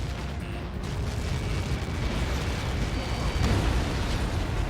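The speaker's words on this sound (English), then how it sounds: "How many got caught in that explosion?" A huge missile impact explosion in the combat flight game Ace Combat 7 rumbles as a dense, sustained roar of blast noise for several seconds.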